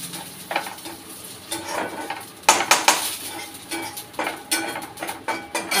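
Sesame and niger seeds dry-frying in a pan, with a spoon repeatedly scraping and clinking against the metal over a soft, steady crackle. The stirring is close and comes in uneven bursts, with no one talking.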